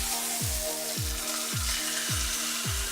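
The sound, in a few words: ribeye steak sizzling in a cast iron pan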